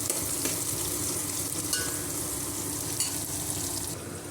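Turmeric and ginger garlic paste frying in a pan, a constant close hiss of hot oil with occasional stirring scrapes, steady and fairly quiet with no talk.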